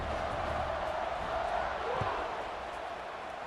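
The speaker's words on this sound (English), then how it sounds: "this crowd is buzzing after that last score" A stadium crowd buzzes in College Football 26 after a touchdown, a steady, loud wash of cheering and murmur that holds evenly throughout, with a faint thump partway through.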